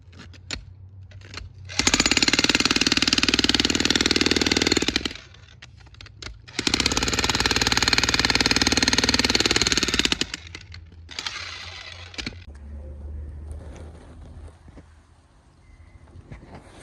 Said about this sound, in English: This is a cheap Amazon jackhammer I bought.